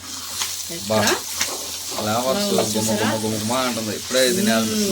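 Chicken pieces fry in a pan, oil hissing and sizzling steadily while stirred, with a voice talking over the cooking for most of the time.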